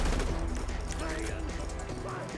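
Gunfire during a heist in the video game GTA V: rapid, dense bursts of shots crackling over one another throughout, with overlapping game sounds and speech mixed in.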